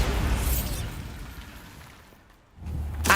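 Bombarda spell blasts in Hogwarts Legacy, a loud, rumbling explosion that fades over a couple of seconds before a second sharp burst hits at the end.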